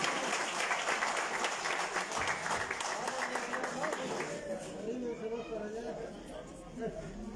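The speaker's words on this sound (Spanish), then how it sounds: "El aplauso bien fuerte." Loud crowd applause at a local party committee swearing-in ceremony in Izúcar de Matamoros, dense clapping that thins out toward the end as crowd chatter and voices rise underneath.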